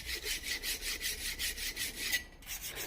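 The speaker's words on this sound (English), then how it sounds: "I'm just using a file. I'm roughly sharpening it at 45 degrees." A hand file is pushed over a No.080 cabinet scraper blade at 45 degrees, making close, loud, evenly paced rasping strokes, about five per second, with a brief pause near the end.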